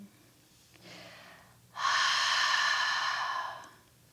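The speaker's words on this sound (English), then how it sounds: "Cleansing breath." A long, deep cleansing breath during a gentle beginner yoga session: a soft inhale followed by a louder, forceful, airy exhale lasting nearly two seconds, close and alone.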